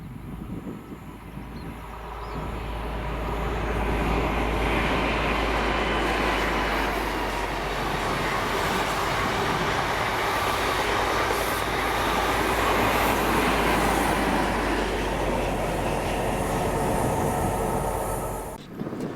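A Blue Pullman HST led by class 43 power cars passes on a Scottish line, a loud sustained roar of engines and wheels that builds quickly, holds steady for most of the pass, then drops away.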